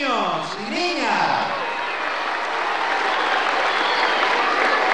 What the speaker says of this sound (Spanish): ¡Un aplauso para nuestros niños y niñas!